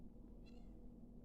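A pet cat gives a single short meow partway through, faint and in the background, with a steady low hum underneath and no one talking.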